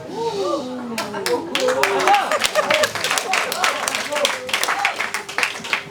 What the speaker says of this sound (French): Alors je vois pas bien en quoi ça mérite des applaudissements.